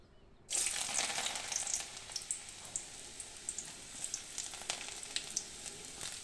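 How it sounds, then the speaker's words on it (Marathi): Garlic and tempering spices hit hot oil with a sudden loud sizzle that settles into a softer, steady frying hiss dotted with small pops and spits. "लसूण तेल गरम झालेलं आहे आता आपण तडका देऊया"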